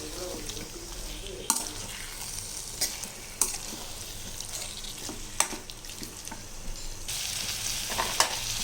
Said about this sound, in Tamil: இந்த சிக்கனை இதிலே போட்டுடலாம் போட்டு இப்போ இதை நல்லா வதக்கி ஒரு ரெண்டு நிமிஷத்துக்கு கிளறி நல்லா இதை வதங்கணும்